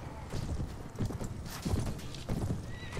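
A horse in a medieval combat video game clip-clops in repeated bursts of hoofbeats and whinnies, close and fairly loud, with brief pauses between runs.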